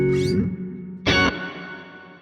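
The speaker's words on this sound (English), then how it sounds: "So that's our phaser, and then on the tail end, we got the reverb, no shimmer." Electric guitar through a phaser and reverb in the Neural DSP Archetype Gojira plugin: a swept, sustained note, then a sharp bright chord hit whose reverb tail fades smoothly, played alone without talk.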